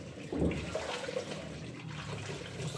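Laundry washed by hand in a sink with water, heard as close sloshing, splashing and swishing of wet fabric, fairly quiet and steady with a brief louder splash near the start.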